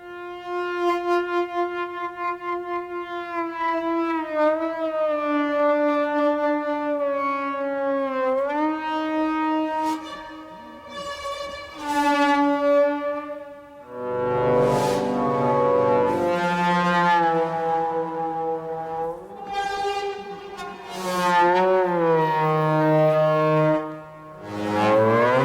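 A synthesized violin from the Mana synth for Kult plays a sustained, singing melodic line with vibrato, rising into higher notes and slurred phrases, loud and continuous.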